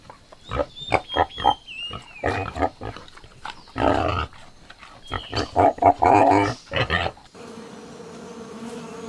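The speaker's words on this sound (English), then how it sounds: "pig" A farm pig grunts and squeals in a quick run of close, uneven bursts, with brief pauses between calls, before a faint, different background noise takes over at the end.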